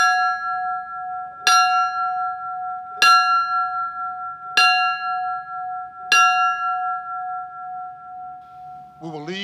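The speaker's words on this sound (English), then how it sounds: "Chris Zappetto of Palm Harbor Fire Rescue will do the tolling of the bell for us." A ceremonial bell tolls for fallen firefighters at a 9/11 memorial ceremony, five clear, evenly spaced rings about one and a half seconds apart, each with a long ringing tail, followed by a brief voice.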